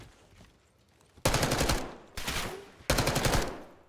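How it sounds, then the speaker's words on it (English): Three loud, close bursts of rapid automatic gunfire in a first-person shooter video game, separated by short pauses, with no voices over them. "What I want you to do is when you see me, shoot me, okay?"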